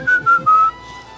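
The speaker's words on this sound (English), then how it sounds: "We're just going to point and whistle." A person whistles three short, clear tonal notes in quick succession, then holds a longer note that slides downward, close and alone.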